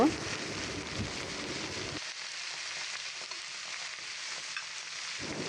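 Steady sizzling of vegetable and lentils frying in a pan, with scraping stirring sounds throughout; a louder crackle opens and closes the stretch.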